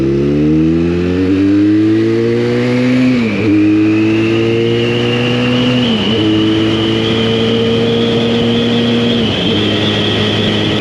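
A Benelli Leoncino 500, a 499cc motorcycle, revs steadily and loudly up close, its engine note climbing and dipping with throttle changes and gear shifts at about three-second intervals.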